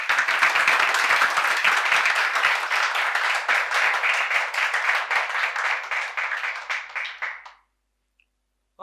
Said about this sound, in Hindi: जिसको मजा आ रहा है एक बार ताली बजा के बताओ